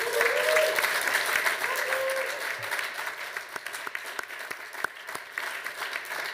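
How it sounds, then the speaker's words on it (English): An audience at the Education Cannot Wait conference applauds the crew. The clapping starts as a full wash, then thins into scattered, separate claps that fade out over several seconds. "Can we give them a round of applause?"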